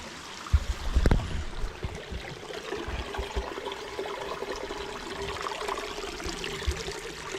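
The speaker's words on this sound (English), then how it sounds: "I can hear some rushing water over here" A creek rushes along a wooded trail where it flows into a pond, giving a steady broadband wash of moving water with a few close knocks and footstep-like bumps near the start.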